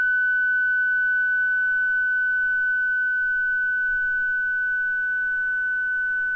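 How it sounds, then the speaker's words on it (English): A steady pure radio carrier tone holds unbroken at one pitch with a faint harmonic above it, sounding alone over a low hiss for the whole stretch. "as I turn the audio down, the carrier is coming back"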